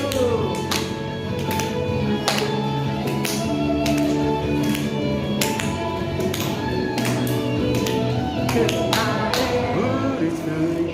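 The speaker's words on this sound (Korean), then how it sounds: "뒤로 박수" Congregation clapping hands behind their backs at a worship service, a steady rhythmic clap pattern over sung music with instruments, loud and continuous.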